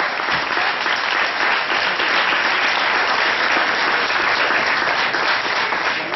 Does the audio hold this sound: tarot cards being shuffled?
no